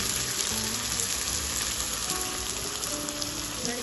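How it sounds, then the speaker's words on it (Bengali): Egg batter poured into hot oil for an egg and brinjal dish sizzles and crackles in a steady, dense hiss that stays loud and close throughout, with no voices. "এখন আমি এর মধ্যে বাকি যে গোলাটুকু আছে ডিমের সেটুকু দিয়ে দেব।"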